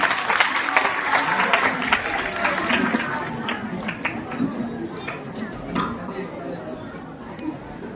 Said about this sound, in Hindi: आप सबकी जोरदार तालियों के साथ पॉपुलर मिरेठी साहब।